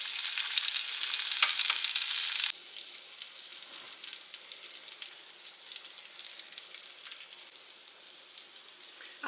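Sausage sizzles and spits in a hot frying pan during a simple breakfast cook, a loud dense hiss at first that drops to a steadier, quieter crackle with scattered pops.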